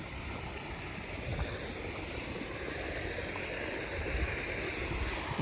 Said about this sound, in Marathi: बघू शकता पाण्याचा फ्लो आहे